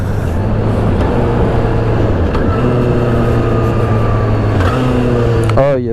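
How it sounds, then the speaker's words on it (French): A Benda LFC 700 motorcycle engine, a cruiser-style bike but not a V-twin, runs with a loud, steady low hum that rises and dips slightly in pitch, close and continuous to the end. "Après c'est pas forcément le bruit qui irait avec ce type de moto."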